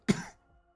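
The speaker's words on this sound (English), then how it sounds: "just cough right into the mic for your viewing pleasure" A single sharp cough close to the microphone, loud and abrupt with a quick fade, standing alone with no talk.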